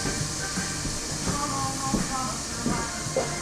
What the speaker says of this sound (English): Put the lid on, steam them